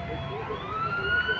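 An ambulance siren wails as the vehicle passes a gas leak emergency at a Red Cross site. Its steady tone slowly rises in pitch and grows a little louder toward the end, over a low background of traffic rumble.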